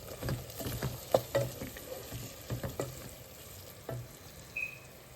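Chicken and tomato fry in a pan, a soft continuous sizzle broken by clinks and scrapes of stirring, close and fairly quiet.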